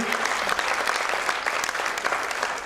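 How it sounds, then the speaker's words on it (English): Audience applause at a hospital launch event, a steady dense round of clapping that holds at an even level throughout the short stretch. "Let's have a huge round of applause for Dr."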